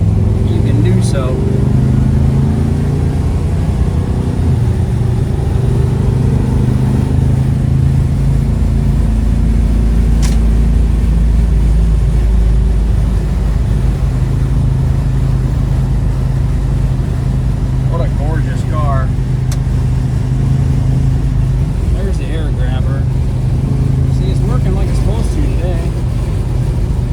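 A 1970 Plymouth GTX with a 440 Six Pack V8 rumbles in a steady, deep idle throughout, with people talking intermittently over the engine.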